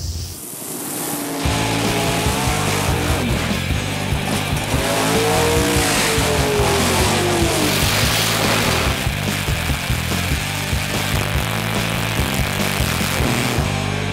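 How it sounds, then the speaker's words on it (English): Turbocharged Mustang drag car doing a burnout: a loud, sustained engine roar with tire squeal rises after a brief quiet start and holds steady for over twelve seconds. "We're about ready for the first burnout"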